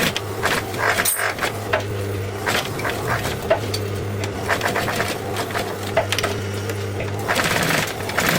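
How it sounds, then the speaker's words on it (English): A sewing machine stitches leather for handmade shoes, running in a continuous close, rhythmic chatter with a steady motor hum and fast repeated needle clicks, with no voices. "So guys, I'm almost done with my stitching."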